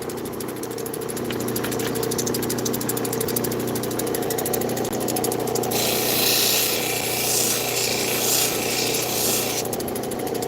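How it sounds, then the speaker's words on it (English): A tool grinds JB Weld off the girdle edge of a turquoise stone, making a continuous close rasping whir. It grows harsher and brighter midway, then eases near the end, with no talk over it. "So I'm trying to get this JB Weld down a little bit on this edge of the girdle."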